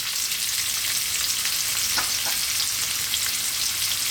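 Onion dropped into a hot pan with olive oil, a bright continuous hiss of frying close up with a couple of brief crackles, steady and alone throughout.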